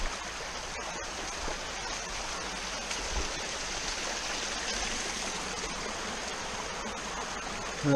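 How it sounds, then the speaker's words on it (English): Small waterfall on a river in the woods, a steady broadband rush of falling water, close and continuous, with no voices. "Beautiful little falls coming down through here"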